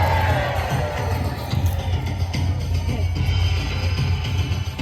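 A large crowd at Warwick Castle cheers and shouts for the House of Lancaster, a dense, loud, sustained roar of many voices with children's whoops mixed in throughout.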